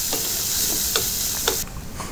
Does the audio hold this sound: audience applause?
no